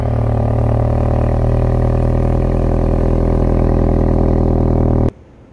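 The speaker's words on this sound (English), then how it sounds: "And that is the cold start." A 2022 BMW X3 xDrive30i, started remotely from cold, runs loud and close with a steady, even engine roar for about five seconds before cutting off abruptly.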